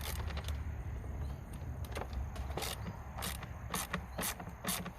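Screws on the air filter housing of an Audi Q5 are loosened with a hand tool, giving a run of close, quiet ratcheting clicks and scraping ticks in an irregular rhythm over a low background hum, with no talk.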